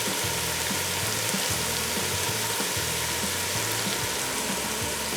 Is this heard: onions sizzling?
yes